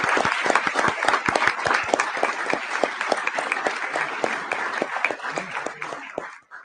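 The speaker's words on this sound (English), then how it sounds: "please clap with me in celebrating these phenomenal women that are here and not here" A city council meeting audience applauds in celebration of honored women, a dense, steady wash of many hands clapping close and loud throughout before cutting off at the end.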